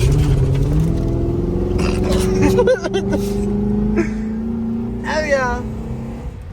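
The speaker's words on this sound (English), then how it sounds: "That fucking misfire is crazy." A 2006 Ford Crown Victoria with a V6 engine running rough with a misfire while driving, a steady droning engine note with uneven stumbles, heard from inside the car as people talk over it.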